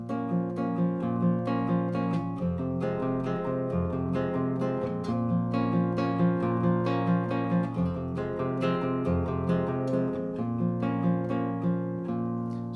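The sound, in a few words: guitar playing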